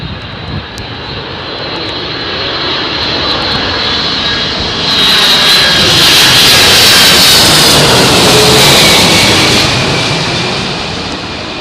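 A Boeing 767 airliner makes a crosswind landing at Heathrow, its engine roar loud and steady, swelling louder midway as it passes close by.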